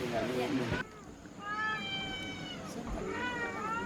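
Several cats meow at a village household in rural Vietnam, repeated drawn-out mews rising close by, with people talking around them and background noise.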